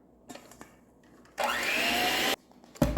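An electric mixer whirs loudly for about a second while it beats milk into chocolate frosting in a kitchen. Quieter clinks and knocks come before and after the burst.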